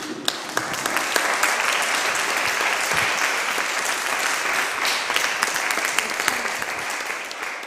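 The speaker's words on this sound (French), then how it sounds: "On peut applaudir quand même Nicolas, s'il vous plaît." Sustained applause from the audience at a municipal council meeting in a chamber, steady and fairly loud throughout, with a few brief voices mixed in.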